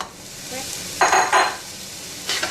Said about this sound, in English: I'm going to cook some onion in this oil.